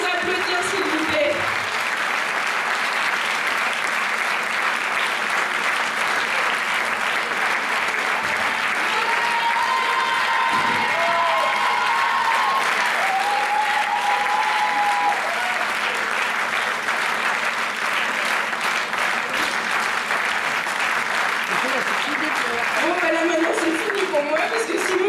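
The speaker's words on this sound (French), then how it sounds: "Je vous demande de les applaudir, s'il vous plaît." Sustained audience applause fills a hall at the Miss Ronde Poitou Charente 2013 beauty pageant, a dense steady clapping that carries on for over twenty seconds with faint voices and music underneath.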